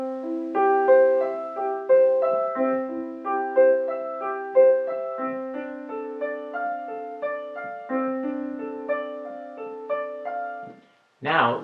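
Measures one through four of Bach's C Major Prelude on piano, evenly paced arpeggiated chords ringing close and clear, with a short spoken word at the very end.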